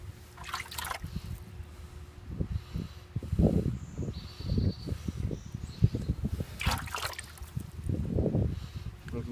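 Water is poured over the threads of a lawn sprinkler coupling to rinse off dirt, giving irregular splashing and trickling bursts that come and go close by.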